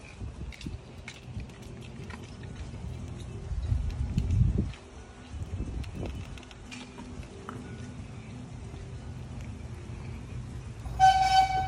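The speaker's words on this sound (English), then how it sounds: "Hey! The train!" A zoo train at the San Antonio Zoo rumbles along, its low engine noise swelling midway, before a short, loud horn toot rings out near the end; outdoor ambience fills the rest.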